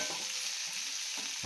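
Vegetables and green chillies fry in a pan with a steady broadband sizzle, broken by a few soft scraping stirs; no one talks.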